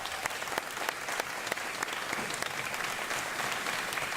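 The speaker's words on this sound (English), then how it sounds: "So give yourselves a round of applause." Teachers of DC Public Schools at a back-to-school welcome event give themselves a round of applause. The clapping is steady and continuous, heard from a moderate distance with a few sharper claps standing out.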